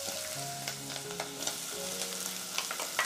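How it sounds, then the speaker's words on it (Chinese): Pork belly stir-frying in a wok with minced garlic, chili rings and dried preserved mustard greens, giving a steady close sizzle with scraping stir strokes throughout, no talking. "继续炒香"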